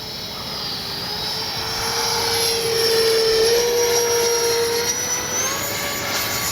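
An Arrows F-86 64mm electric ducted-fan RC jet sweeps low past in fierce wind, its high turbine-like whine rising as it closes in and then bending in pitch as it passes, loud and continuous.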